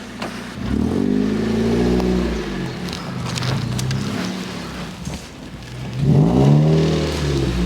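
Modified Mazda MX-5 Miata roadster with windows down accelerating on a mixed off-road and on-road drive, engine note rising in two strong surges with a steadier drone between, close and loud inside the car.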